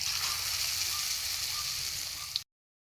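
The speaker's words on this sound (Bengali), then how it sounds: "তেলে ভেজে নেব" Besan-coated papad pieces fry in hot oil with a steady, close hiss and crackle that cuts off abruptly.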